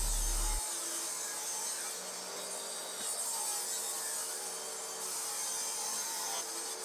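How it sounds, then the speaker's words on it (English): A table saw cuts wood panels to matching height for a vinyl display unit. The sound is a faint, steady whine with a soft hiss and slight rubbing texture, distant and low in level throughout. "Then I set the table saw fence and cut all 4 panels so that they would be exactly the same height"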